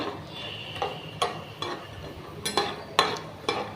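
Peanuts frying in a pan for mango pulihora, stirred with a utensil: sharp irregular clicks and scrapes of metal on the pan over a soft sizzling bed, close and fairly loud, with no talking.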